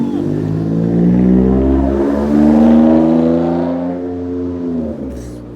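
A car engine revs in a strong, close tone that rises and holds, then winds down near the end, loud and alone without talk.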